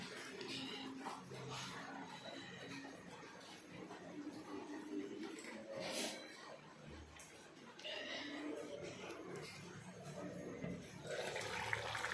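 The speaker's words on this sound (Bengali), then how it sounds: "যা বৃষ্টি শুরু হয়েছে, দেখো সব ভিজে গেছে।" Steady rain pours down at night with water splashing and running everywhere, a continuous broadband wash that swells and eases and stays fairly near, with faint voices now and then in the background.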